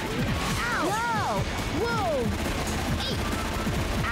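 Rapid, relentless fire from the Gatling Gunner in Gotcha Force, a dense stream of close, loud shots with high whistling ricochets and electronic squeals mixed over it, while a voice talks over the barrage.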